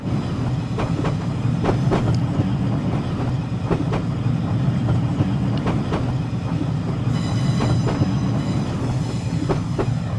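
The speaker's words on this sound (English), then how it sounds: "you could just get into a real steam train, because, yeah, they're kind of loud." A steam locomotive on the Woodhead route in Train Simulator rolls along with a constant loud rumble and regular clickety-clack of wheels over rail joints, and a high steady tone joins near the end.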